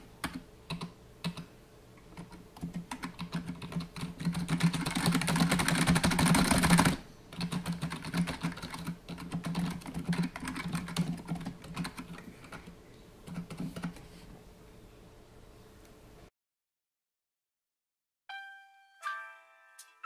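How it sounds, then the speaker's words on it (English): Rapid, steady typing on a Matias Ergo Pro keyboard with quiet clicky switches, crisp light clicks close by, continuing for several seconds before stopping into silence, followed by a faint chime. "they make key switches in here, which are the quiet clicky switches"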